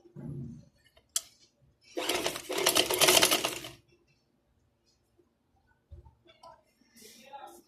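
A sewing machine stitches lace trim onto a garment's neck, hem and slit, running over an existing seam line in one loud burst of a couple of seconds, with brief clicks and low speech before and after.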